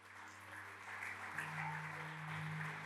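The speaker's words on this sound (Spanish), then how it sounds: "Dale fuerte el aplauso al Señor." A church audience applauds the Lord during a sermon, a faint, steady wash of clapping heard from a distance over a low sustained musical hum.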